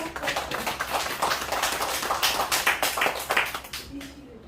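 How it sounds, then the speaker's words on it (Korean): An indoor audience at a poetry lecture claps together, a brisk spread of hand claps that starts at once and fades toward the end, with voices faint underneath. "고은희 관장님을 모시고 우리 박수도 한번 보내드리고"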